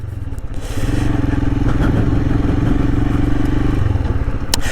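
A Royal Enfield Himalayan motorcycle engine thumps steadily and loudly up close while riding over a bumpy road, with clatter and rattles from the rough surface.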